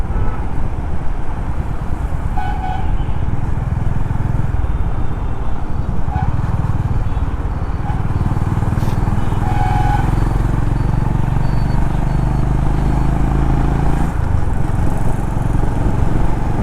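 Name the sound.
Honda CB350RS motorcycle being ridden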